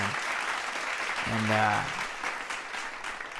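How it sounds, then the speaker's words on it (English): Applause for the Chargers' first win against the Giants, a broad even clapping wash running through the whole stretch, with a voice talking over it in the middle. "Yeah, clap it up."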